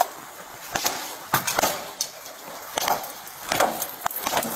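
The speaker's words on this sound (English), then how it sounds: "how hard it is to actually use a baton to break car door glass" Police baton striking car door glass, several sharp hard knocks and cracks spread irregularly over a few seconds, close and loud against a busy background noise.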